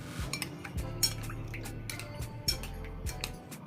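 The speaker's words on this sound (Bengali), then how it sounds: "হাত দিয়ে চিপে চিপে সয়াবিন থেকে পানি বের করে নিচ্ছি" Boiled soybeans, chilled in cold water, are squeezed by hand over a bowl, giving soft wet squishes and drips with a few light clinks of a dish, close and quiet with no talk.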